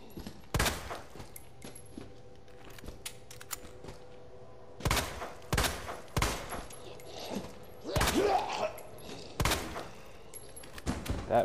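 Gunshots in the Resident Evil 2 video game, a handful of loud close sharp shots spaced irregularly across several seconds, separated by quiet ambient gaps.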